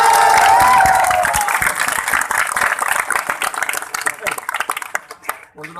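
A crowd at an outdoor political rally in Gwalior applauds loudly, a dense burst of clapping that gradually thins and fades over several seconds, with a voice on a loudspeaker over the top at the start.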